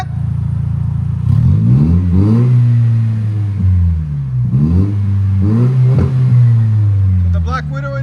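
A 2026 Toyota Tacoma 2.4L turbo fitted with a Black Widow Angry Housewife muffler revs repeatedly, rising in several strong throaty swells and settling back to a loud, rumbling idle between them.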